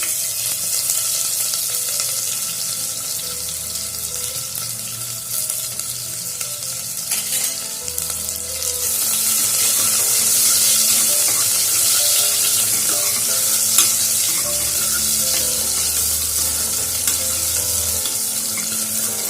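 Onions and green and dried chillies sizzle in a pan for millet sambar, a steady close frying hiss with occasional stirring scrapes and a brief surge of louder sizzling midway.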